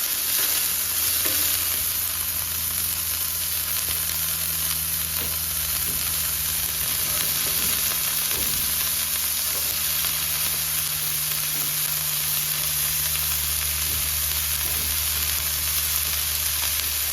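Cabbage and carrot sautéing in a pan for thoran, a steady moderate sizzle with repeated spatula stirring scrapes and light clinks over a low background hum, no talking.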